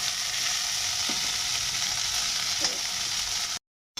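Chow mein fries in an oiled pan with a steady, dense sizzle and a couple of faint utensil taps. The sizzle runs continuously and cuts off abruptly near the end.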